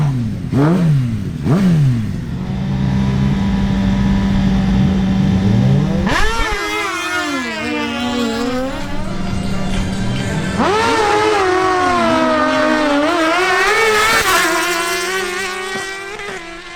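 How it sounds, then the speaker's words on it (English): Suzuki GSX-R1000 sport bikes scream through a drag race launch, loud and close, engines revving high and rising through rapid gear changes in overlapping wails with no talk. "a duel between the Suzuki GSX-R1000 ridden by Dan Monsalve and Steven Rivera"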